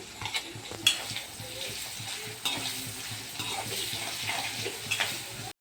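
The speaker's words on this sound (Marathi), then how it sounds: "आपला कांदा जो आहे तो छान फ्राय होतो आहे" Salted onion frying in a pan for dhaba-style palak paneer, a continuous moderate sizzle with faint stirring clinks and occasional scraping.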